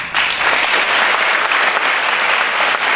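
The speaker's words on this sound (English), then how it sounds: "Please give them a big applause." A large audience at an Amway business event applauds the veteran leaders, a loud, dense wash of clapping that starts suddenly and holds steady and close throughout, with no speech over it.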